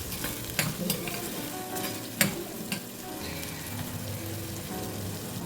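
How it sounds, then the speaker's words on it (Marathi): Chopped onion sautéing in oil in a pan for a potato bhaji, a soft steady sizzle close by with a few sharp stirring clinks and scrapes, no voices. "कापलेला कांदा घालूया आणि हे सर्व आपण आता तेलावर परतून घेऊया"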